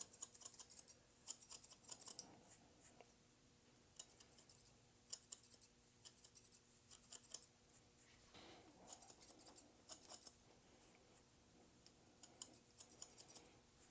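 Thinning shears snip hair during a fade haircut, a series of quiet, close, crisp metallic clicks arriving in short bursts with brief pauses between them, with no talking.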